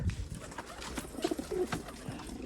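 High flyer pigeons coo in low, soft, repeated calls at close range inside a loft or coop, with a few faint rustles between the coos.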